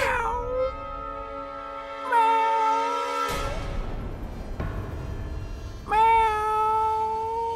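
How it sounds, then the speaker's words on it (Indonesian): A cat meows at night indoors, several clear, close, tonal meows with pauses between, plus a brief door or knock-like thud in the middle. "Ternyata kucing."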